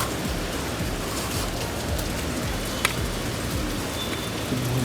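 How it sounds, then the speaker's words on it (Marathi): Heavy rain falls steadily in a dense, unbroken hiss on surfaces nearby, with a faint distant rumble and no voices. "पाऊस एवढा जोरात आलेला आहे, जोर एकदम जोरात झालेला आहे."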